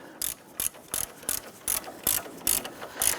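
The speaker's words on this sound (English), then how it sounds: "go ahead and grab that ratchet and go ahead and drive that in a little bit further" Ratchet driving a bolt into the engine torque strut mount of a 1992-1996 Toyota Camry 2.2L I4, with eight evenly spaced, crisp clicking bursts in a steady rhythm, close-up and alone.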